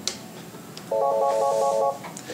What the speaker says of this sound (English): When a call rings into your phone, you have a few options.